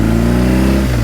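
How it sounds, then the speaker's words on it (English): A car on a mountain road near Athens, its engine humming loudly and close for about a second before the pitch drops as it passes. "let's wait for this car to pass by"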